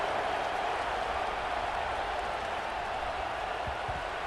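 Stadium crowd in EA Sports College Football 26 at a Clemson vs. Kansas game, a steady broad roar of cheering and applause filling the space throughout with no talk over it.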